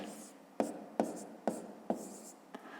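A pen or pencil writes numbers for a subtraction problem on paper. It gives four or five short, crisp strokes and taps at a steady rhythm, close and quiet, with no talk over them.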